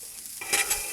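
Broccoli stirred in oil on a Blackstone griddle over medium heat, a soft scrape then bright sizzle swelling in two close bursts, no voices.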